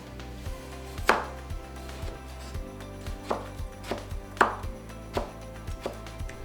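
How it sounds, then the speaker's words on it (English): Taro and spring onions being chopped with a knife on a cutting board, a series of about a dozen sharp, close chops at an uneven, unhurried rhythm over a quiet background, no voices. "Similarly for taro and spring onions, I will also chop them up and put them in the mixing bowl."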